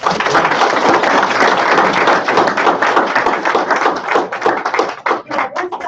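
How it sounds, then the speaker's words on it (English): An audience applauds students at a career and technical education signing day, with dense, close clapping that is sustained for several seconds before thinning toward the end. "Let's give these students a round of applause."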